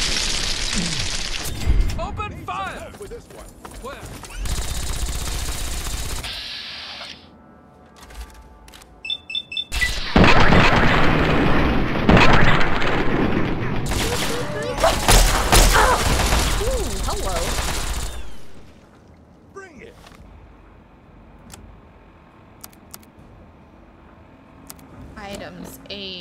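Gunfire in the video game Fallout 3 rattles in loud automatic bursts and single cracks, alternating with quieter stretches, while a voice talks over parts of the action.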